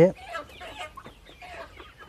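Sonali hens cluck in short, choppy bursts nearby, a brief loud call at the start followed by steady murmuring clucks.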